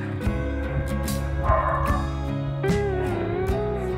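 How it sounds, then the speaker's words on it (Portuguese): A small dog at a door barks and yips in a quick irregular run of sharp, close, fairly loud calls, with some whining between them and no talk. "O cachorrinho vem pra porta e fica latindo."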